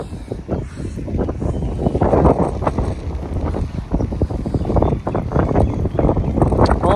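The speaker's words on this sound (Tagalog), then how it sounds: "ang lakas ng hangin" Strong wind buffets the microphone in an outdoor restaurant seating area with benches, a loud continuous roaring rush that swells and gusts steadily throughout with no speech.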